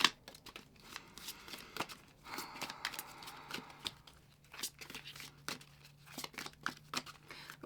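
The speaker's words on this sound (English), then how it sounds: "The one thing about this deck is that it's a little bit hard to shuffle because it's circular, it kind of flies around everywhere." A circular tarot card deck is shuffled by hand up close, producing irregular bursts of papery slapping, sliding and crinkling with short pauses between them.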